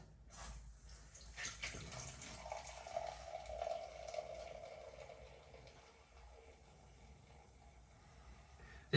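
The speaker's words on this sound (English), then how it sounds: "this is a traditional Czech pour" Budweiser Budvar Czech lager poured straight down from a 5 litre mini keg into a glass, a faint, soft rush of liquid and foam that swells for a few seconds and then fades, in a quiet room.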